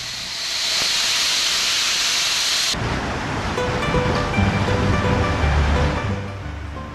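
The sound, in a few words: bamboo wheel filled with stones rolling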